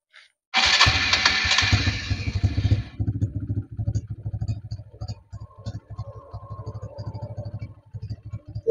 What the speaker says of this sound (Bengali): বাইকটি যদি আপনাদের স্টার্ট করে সাউন্ড কোয়ালিটি শোনার চেষ্টা করি